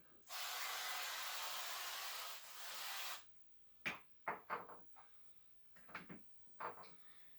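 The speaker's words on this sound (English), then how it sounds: "So I'm just going to spray the pan." A steady hissing spray of cooking oil onto a cake pan lasts about three seconds, followed by several short clattering knocks and taps from handling the pan.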